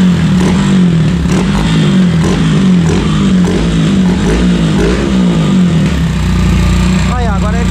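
Honda Titan 2010 motorcycle engine with a 190cc kit, 160 crankshaft and a CB300 throttle-body injection running on alcohol, held at a steady, loud, unstable high idle with a low throbbing drone, with someone talking over it.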